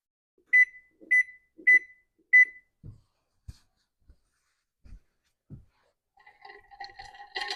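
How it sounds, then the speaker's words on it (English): A kitchen timer being set while proofing sourdough gives four crisp, evenly spaced beeps, followed by a few soft clicks and taps, then a faint clatter of kitchen movement near the end. "So I'm going to go ahead and set my timer for 1 hour."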